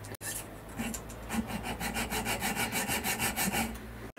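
A metal rod being cut to length with a hand saw, close by and steady, with quick regular back-and-forth rasping strokes, about four per second, after a brief pause at the start.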